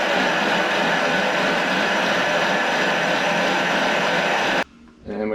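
A kitchen blender runs steadily on a mid-high setting, pureeing vegetables cooked in butter for lobster bisque, its loud dense whir continuing for several seconds before cutting off abruptly near the end.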